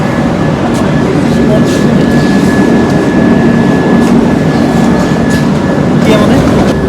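Kaziranga Express passenger train, Up 13181 on the Kolkata–Rampurhat route, rumbles loudly and continuously close by with a rattling rail clatter, while voices talk over it.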